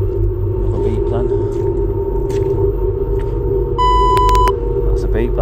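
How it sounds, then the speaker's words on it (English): An electronic device emits a short steady beep with a bright harmonic edge, lasting under a second, over a constant low rumble and background noise during a paranormal investigation. "Another beep then."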